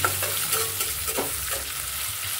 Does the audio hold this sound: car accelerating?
no